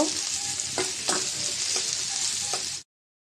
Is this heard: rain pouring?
no